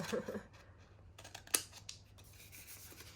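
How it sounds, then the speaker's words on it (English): Quiet snipping of scissors cutting paper, a few soft cuts and one sharper snip, close but faint over a low background hum, with no talk. "Snip, snip, don't cut your finger off, please."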